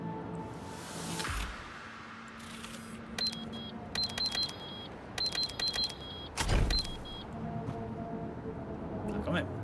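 A car engine hums and revs in the video game Cyberpunk, with repeated electronic beeps and short mechanical bursts, a thud midway, all under a continuous road-like drone.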